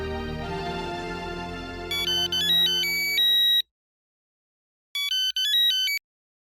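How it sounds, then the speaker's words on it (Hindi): A phone ringtone plays in a Hindi comedy film, a melodic electronic trill in two bursts separated by a short pause, fairly loud and close, with a music bed fading beneath the first. "मैं एक मिनट सोडी को फिर से फोन लगाता हूँ।"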